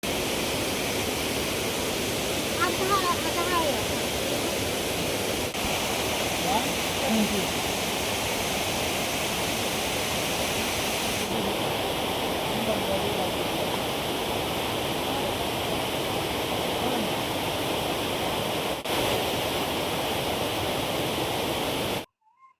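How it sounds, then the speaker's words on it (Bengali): A waterfall near a living root bridge in Shillong roars in a steady, loud, broadband rush that stays unbroken and fairly close throughout, with no talk above it. "ঝর্ণার শব্দটা হয়তো আপনারা অলরেডি শুনতে পাচ্ছেন"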